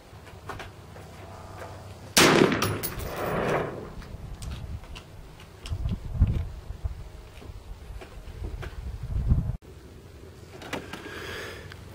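A rifle fires a hand-loaded round with a Hornady 55 grain soft point bullet over 27 grains of Varget, one sharp loud report followed by outdoor echo and a few thuddy handling noises.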